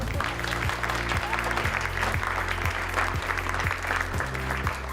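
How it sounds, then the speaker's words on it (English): Steady applause from a large audience at a Diwali gala fills the room, continuous clapping with a low musical hum running underneath. "give yourselves a big round of applause"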